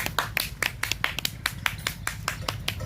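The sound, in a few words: audience applause welcoming comedian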